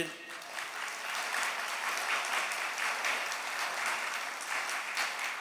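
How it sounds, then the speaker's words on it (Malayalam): A church congregation at a prayer service claps hands in a sustained, even burst of applause that fills the hall and continues without a break. "ഒന്ന് കൈയുയർത്തി കൈയടിച്ച്"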